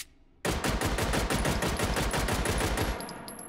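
A VP9 pistol in a VR shooting game fires a rapid string of roughly twenty close, sharp shots in an even fast rhythm after a brief quiet start, ending with a faint metallic ring.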